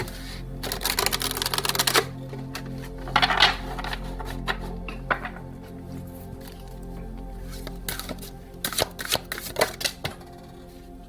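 Tarot cards shuffled by hand for a spirituality reading, giving soft riffling bursts and scattered taps that come and go in clusters, close and fairly quiet, with no talking over them.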